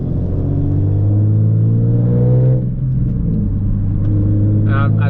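A manual Nissan 370Z cruising at steady revs, its engine giving a loud, continuous low rumble and drone that dips briefly midway before holding again.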